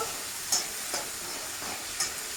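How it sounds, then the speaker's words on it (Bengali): Garlic sizzling in a pan for a white spinach dish, a steady close hiss with a few light scrapes of stirring spaced through it and no talking. "তো আমি এবার রসুনটাকে ভালো করে এইভাবে একটু ভেজে নেব।"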